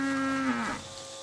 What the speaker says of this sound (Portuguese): Ainda de madrugada começa a ordenha das vacas, que o Ricardo chama carinhosamente